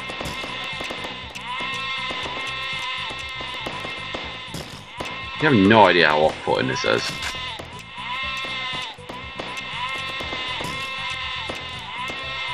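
Cartoonish sheep bleat in a short burst of wavering calls from the video game Lemmings Paintball, heard over looping game music while someone talks.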